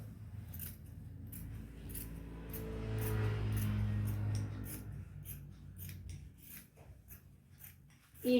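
Scissors cut through salwar fabric in a series of crisp, close snips, with a quiet, low rumbling hum underneath and a brief louder rustle at the end.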